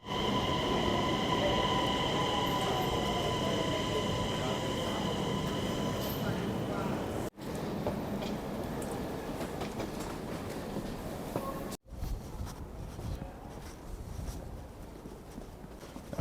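Rumbling train interior with steady rattling and clacking over the rails, faint voices in the carriage, and a couple of abrupt cuts as the ride continues.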